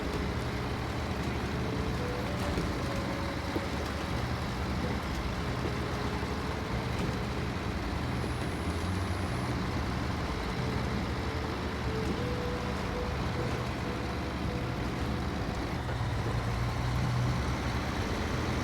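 Old farm tractor engine running steadily nearby, a loud continuous low chugging drone with a faint tonal whine rising through it, no talk over it.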